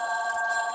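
A telephone rings in a short, steady electronic trill, close and clear and heard alone.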